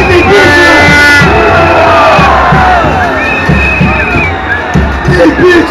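A large crowd at a Brazilian political rally for impeachment, loud and dense, with chanting and shouting voices that rise and swell throughout, cheers and whoops on top.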